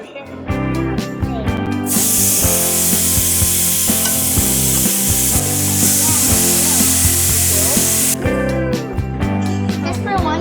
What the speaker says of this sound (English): We're grilling. Grilling what? Meat. What kind of meat? Steak?